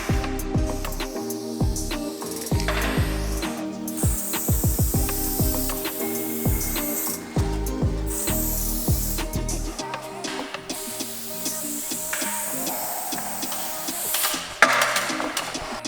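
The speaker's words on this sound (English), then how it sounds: "For the outlines I used the green level 1 skinny cap from Montana cans. It has a pretty high output" Spray paint from a Montana can fitted with a green level 1 skinny cap, laying down letter outlines; short hissing bursts alternate with clicks and handling knocks, close and fairly loud, with no voices.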